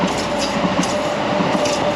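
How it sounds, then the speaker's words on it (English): A DLR light rail train runs near Gallions Reach station in east London, a loud close rumble with rhythmic wheel clicks and a faint steady whine, with no talk. "we got a train coming from Beckton,"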